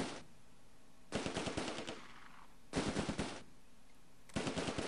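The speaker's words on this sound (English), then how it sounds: "Fire as you go. You got Thompson machine guns." Thompson submachine guns fire in the WWII video game Close Combat, in three rapid automatic bursts of roughly a second each, evenly spaced with quiet gaps between them, crisp and fairly close.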